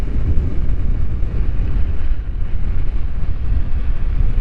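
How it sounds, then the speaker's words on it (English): Strong wind buffets the microphone while riding a Gotway EXN electric unicycle at speed. The roar is loud, constant and low, rumbling throughout with no voices. "It's really too windy to hold this stick today."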